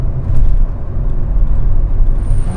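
A 25-year-old Mazda RX-7 with a twin-turbo rotary engine running, giving a loud, steady low rumble and whir that holds without a break throughout.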